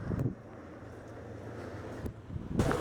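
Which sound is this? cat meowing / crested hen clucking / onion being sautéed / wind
wind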